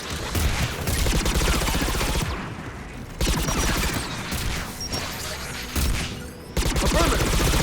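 Anti-aircraft gunfire in the video game Mass Effect 3, heard as dense, loud bursts of rapid shots that stop briefly and then resume, with faint voices mixed in.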